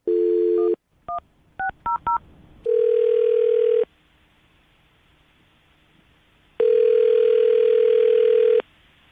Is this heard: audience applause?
no